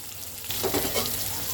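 Crab claws frying with turmeric, coriander powder and salt in a pan for a hilsa dish, making a loud close sizzle that swells briefly into a stronger crackling burst.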